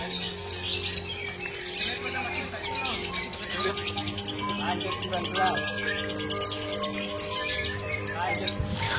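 Lovebirds kept in a tandem breeding setup chirp and tweet in a dense, continuous stream of sharp calls, close and lively, over a low background hum.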